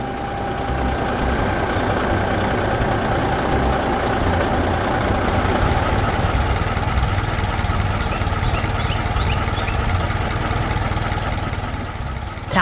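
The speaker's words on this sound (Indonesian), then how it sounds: "Traktor biru dengan tangki kuning sedang bekerja di sekitar tanaman yang tumbuh" A blue tractor with a yellow tank chugs steadily while working around growing crops, its engine a continuous, loud, low rumble with a dense mechanical clatter that holds unchanged throughout, with no voices.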